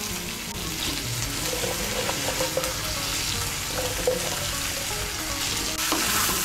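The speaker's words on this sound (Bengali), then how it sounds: "আঁচটাকে মিডিয়াম করে আলুগুলোকে ভেজে নিয়েছি" Potatoes and spring onions fry in a pan over medium heat, giving a steady, dense sizzle with occasional stirring clicks, close up and continuous, with no talking.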